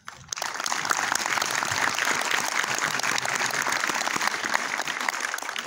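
A cinema audience at a film premiere applauds, the dense clapping starting abruptly and holding steady and loud for several seconds with no talk over it.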